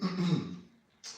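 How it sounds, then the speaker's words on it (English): A painter recovering from a cold clears their throat once, a short rasping burst close to the mic, then a brief quiet and a faint breathy noise. "excuse me if I have to clear my throat here and there"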